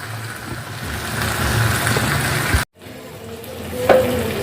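Chicken with spices sizzles and is stirred in a clay pot over a village fire, a steady close frying hiss that cuts out briefly midway and resumes with a sharp scrape.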